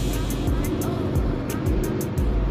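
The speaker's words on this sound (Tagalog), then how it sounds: "Ayun, yung mga aeroplano, ayan o." Airplanes fly overhead near the Clark Freeport Zone in Pampanga, a steady broad engine roar heard from outdoors, with soft traffic-like rumble underneath.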